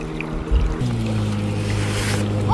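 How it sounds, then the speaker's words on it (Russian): A boat's motor hums steadily on a river as the boat comes toward the listener, a low continuous drone that holds for the whole stretch with faint water and outdoor ambience around it. "слышу гул, там вот, видите, лодка плывет сюда"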